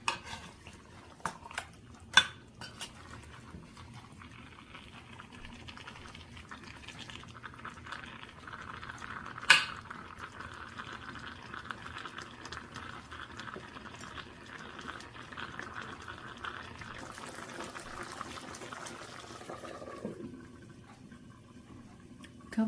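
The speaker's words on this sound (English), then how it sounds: "So if you feel that the chicken has released a lot of water, increase the flame" Chicken pieces simmering in their own released water in a pan on the stove, a faint steady bubbling hiss with a few clinks of cookware, no voices.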